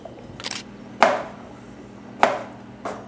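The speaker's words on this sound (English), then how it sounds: "So now I just cube them like in a square shape." Knife cubing peeled potatoes on a board lands a few sharp, separate chops about a second apart over a quiet background.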